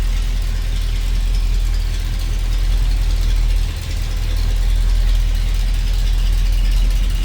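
A 1978 Jeep CJ-5 with a Holley 4-barrel carburetor and HEI ignition idles with the hood open, giving a steady, smooth low rumble throughout. Nobody speaks.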